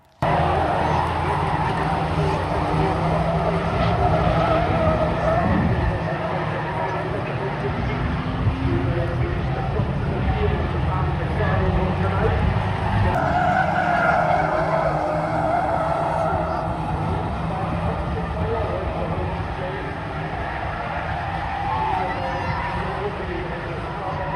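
Race cars lapping the Knockhill circuit in an evening race, engines roaring continuously and loudly with passing cars and tyre noise throughout, while a voice talks over the track sound.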